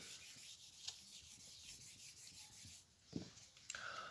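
Writing being rubbed off a classroom board during a maths lesson, a steady scrubbing rasp running through most of the stretch, with a few sharper taps and scuffs near the end and no talk.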